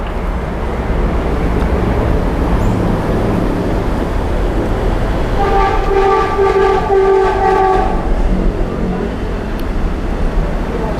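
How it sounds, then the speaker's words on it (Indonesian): A train runs past on the railway right beside a roadside Mie Aceh eatery on Lenteng Agung Raya, a steady loud rumble of cars on rails with a horn sounding for a couple of seconds midway. "Suara kereta seberang saya rel."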